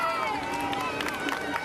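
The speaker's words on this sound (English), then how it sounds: "listen to the crowd as they cheer him on" Steady crowd noise with cheering voices at a Paris 2024 Paralympic para cycling road individual time trial, a continuous dense roar of spectators without distinct claps.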